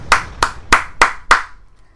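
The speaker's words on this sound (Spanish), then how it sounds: "Un aplauso, por favor." One person claps five times in slow, even succession, sharp close-up hand claps spaced about a third of a second apart, then silence.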